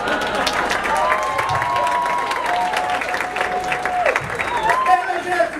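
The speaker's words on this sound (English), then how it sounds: "Hey, let's hear it for Big Kendall" A comedy club audience applauds and cheers as a comedian takes the stage, a loud, continuous wash of clapping with whoops and shouts throughout.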